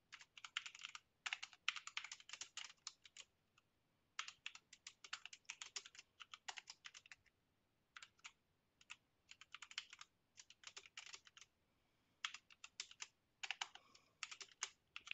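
Fast clattering keystrokes on a computer keyboard in bursts separated by short pauses, close and clear.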